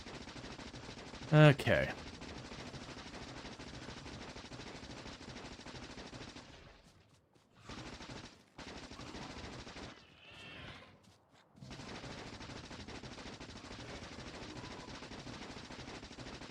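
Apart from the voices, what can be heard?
gun turrets firing at bugs in video game Factorio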